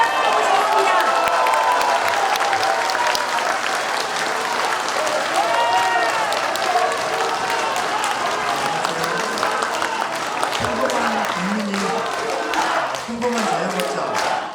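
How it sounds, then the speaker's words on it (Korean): Indoor audience at a Korean political gathering applauds warmly to welcome a speaker, continuous dense clapping with some crowd noise and voices underneath toward the end. "큰 박수로 모시겠습니다."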